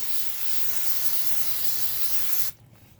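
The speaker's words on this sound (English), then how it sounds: "I'm just going to spray the whole thing as it is brake parts cleaner" Brake parts cleaner sprays onto a wheel hub as one steady, loud aerosol hiss lasting about two and a half seconds, close by, then cuts off abruptly to quiet.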